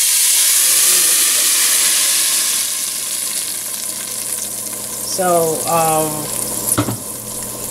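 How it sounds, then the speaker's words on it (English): Tomatoes fry in a pot for egusi soup with a steady, loud sizzle and hiss throughout, while a voice speaks briefly near the end. "that's my tomatoes, and I'm just gonna let this fry"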